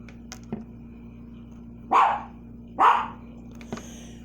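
Two sharp dog barks ring out about a second apart at moderate distance, with faint clicks and a low steady hum in the background of an indoor room.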